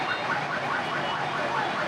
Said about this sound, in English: Excuse the sirens.